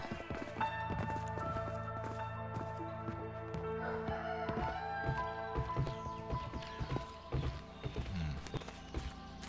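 Horse hooves clip-clop in the video game A Way Out, irregular thuds and clatters over a steady musical drone, with a rooster-like crow and other farmyard game sounds mixed in.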